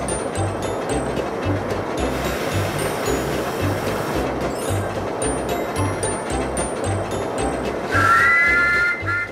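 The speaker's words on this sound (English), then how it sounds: "the smell of a steam train and the sound of an old-fashioned whistle takes me back to my childhood" A steam train pulls away with a steady rhythmic chugging and rumble, and near the end an old-fashioned whistle sounds loudly for about a second.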